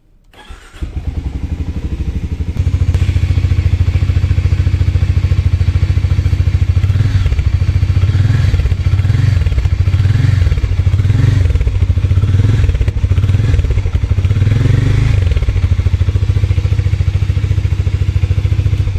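A 2024 Harley-Davidson X440 motorcycle engine starts up and settles into a loud, close idle, with a few throaty revs rising and falling throughout.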